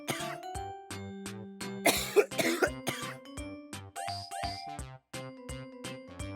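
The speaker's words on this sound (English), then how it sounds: "Cough." A brief burst of coughing with some throat clearing sits near the middle, fairly close and moderately loud over soft background music.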